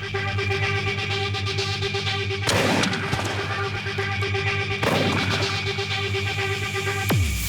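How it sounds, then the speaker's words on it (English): An air mortar fires paint-filled condoms at about 80 miles an hour, two loud booming launches a few seconds apart over steady background noise, with a sharp ringing hit near the end. "art is delivered by an air mortar at 80 miles an hour"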